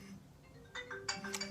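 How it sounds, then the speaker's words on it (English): A phone that was playing background music goes off with a bright electronic ringtone, a few short tonal bursts that rise over a quiet room, fairly close and moderately loud. "That was the phone that's playing my background music just went off."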